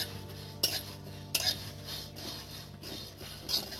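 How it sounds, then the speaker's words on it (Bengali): A metal spoon stirs spices into jujube (kul) pickle in a pan, soft scraping and stirring punctuated by a few sharp clinks against the vessel, close and fairly quiet, with no talk. "দেখুন দিয়ে একটু নেড়ে চেড়ে নেবো"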